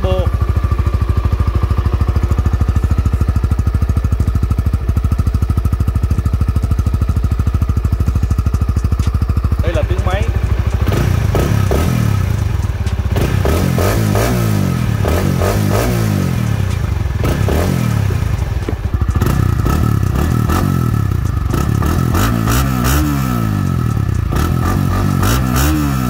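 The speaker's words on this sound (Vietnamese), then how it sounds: "Còn đây là tiếng bô." Exhaust of a Honda Winner X motorcycle, recorded near the pipe: a steady idle burble, then repeated throttle blips rising and falling in loud revving bursts, with someone speaking over it.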